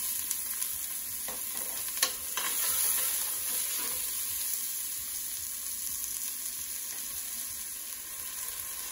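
Onions sizzling in hot oil in a pan, a steady bright hiss with a few soft knocks and stirring scrapes early on. No one speaks.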